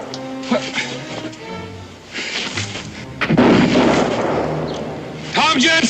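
Gunfire from a Daniel Boone frontier TV drama episode: a heavy blast and rolling booms break out midway, alongside shouting voices and other speech.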